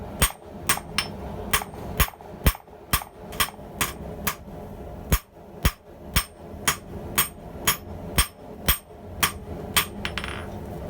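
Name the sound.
hammer forging hot H13 steel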